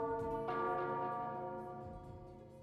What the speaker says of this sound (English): Just then the doorbell rang again.